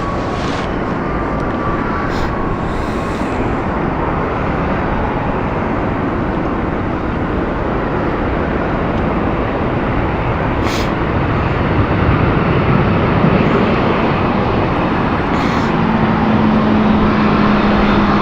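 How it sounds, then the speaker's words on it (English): An airliner arriving from Berlin makes a quiet landing approach at London City Airport, heard as a steady, broad jet roar that holds level throughout, with no talk over it. "Very quiet approach there from the Berlin flight"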